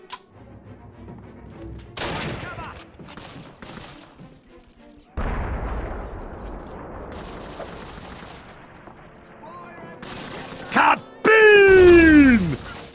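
Grenade blasts in the World War II shooter Call of Duty: United Offensive, with heavy booming bursts among scattered gunfire and battle noise, the loudest burst near the end.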